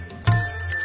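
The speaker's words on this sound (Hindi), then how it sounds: "जरा सुनिए कैसे घंटी बजी है।" A single bright bell strike rings out and lingers with a shimmering, sustained tone, close and clear.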